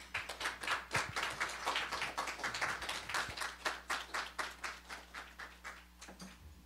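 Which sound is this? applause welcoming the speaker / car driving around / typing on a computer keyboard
applause welcoming the speaker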